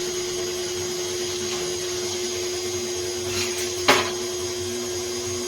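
A stand mixer running steadily at speed 2 while mixing pizza dough for a cast iron skillet pan pizza, a constant motor whine and hum with one brief knock partway through.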